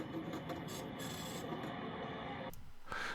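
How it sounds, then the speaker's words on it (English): A dot matrix printer prints in a dense, continuous buzzing rasp with a rapid mechanical texture, changing pitch briefly near the end. "it's an actual sound of a dot matrix printer printing"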